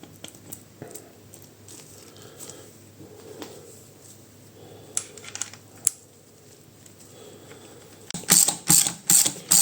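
Ratchet wrench tightening bolts on a Fiat C530 gearbox during assembly: quiet mechanical handling and faint clicks, then a close run of rapid, loud ratcheting bursts in quick rhythm near the end.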